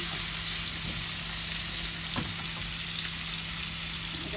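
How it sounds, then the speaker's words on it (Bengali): Onions sautéing in a pan for a Bangla fish curry with pointed gourd, giving a steady, dense sizzle that runs unbroken throughout, with faint stirring scrapes and no voices. "আমাদের পেঁয়াজ কষা নিয়ে গেছে"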